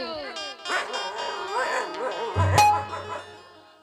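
A dog yips and whimpers in short, high bursts, close by, mixed in with people talking over it.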